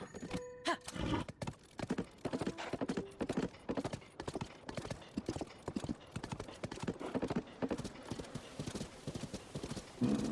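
Galloping horse hooves in The Legend of Zelda: Tears of the Kingdom, a rapid, continuous clip-clop rhythm close and clear, with a brief whinny near the start and no talk.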